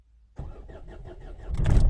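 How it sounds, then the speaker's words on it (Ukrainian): A Renault Megane starter cranks in a quick rhythmic whir for about a second, then the engine catches and roars up loudly. "Запускаємо двигун, все"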